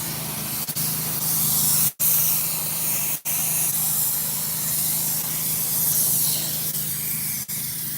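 A pressure washer sprays steadily outdoors in the rain while rinsing a surface downhill, a loud continuous hiss broken by two brief trigger pauses and one short dropout.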